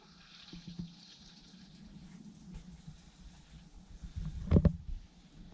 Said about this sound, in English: you can actually see the water flowing through there